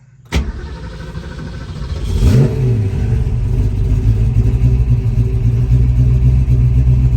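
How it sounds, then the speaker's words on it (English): A 1967 Shelby GT350 engine cranks and catches, then revs up with a sweeping rise before settling into a loud, steady idle close by. "Let's fire the car up."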